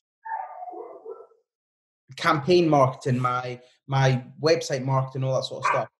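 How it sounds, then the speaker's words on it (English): A pet dog barks briefly in the distance at the start, a short muffled burst, followed by someone talking close up over it. "Excuse my dog barking in the background"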